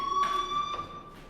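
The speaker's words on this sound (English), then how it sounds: "Hey, do you hear that fire alarm?" A fire alarm in the video game Life Is Strange rings with a steady, high electronic tone, sounding continuously and fairly loud with slight pulsing swells throughout.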